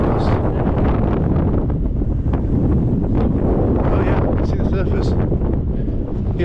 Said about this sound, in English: I think this coastline suffers quite frequently with wind gusts.